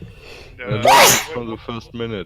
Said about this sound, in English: believe that's our first on-air sneeze